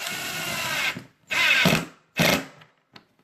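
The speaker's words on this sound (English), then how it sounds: "we're going to drill this in about halfway" A power drill whirs in three separate bursts while driving into wood, close and loud, each spin stopping abruptly with short silences between.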